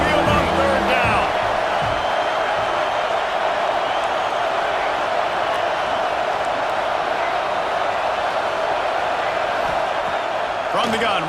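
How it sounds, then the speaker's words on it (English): Continuous rolling crowd roar from Alabama Crimson Tide fans in a college football video game, a steady loud wash of noise with a brief cheer at the start. "The Tide crowd rolling noise down on the Saban field on 3rd down."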